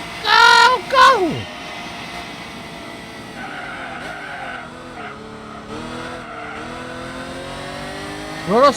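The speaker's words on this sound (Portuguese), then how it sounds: "Carro!" Racing cars in Gran Turismo 4 roar past with engine revs and tire skids at the start, then a steady low engine drone runs underneath, with a voice speaking over it in the opening seconds.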